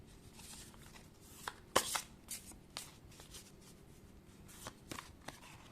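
Tarot cards shuffled by hand for a reading, a steady soft riffling with a few sharper slaps and flutters of the deck, close and quiet, with no talking.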